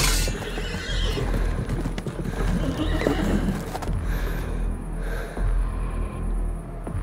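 Horses whinny and neigh as hooves clip-clop steadily, a loud, dense sound effect for a horror story scene with riders surrounding someone, continuous and close with a low rumble underneath.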